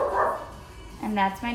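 A pet dog barks a couple of times near the end, short sharp yips coming through after a person talking indoors.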